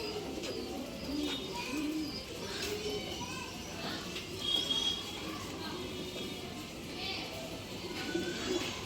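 Breeding pigeons kept for sale coo softly in repeated low, rolling calls, near and moderately quiet, with faint chirps and a continuous background murmur of voices.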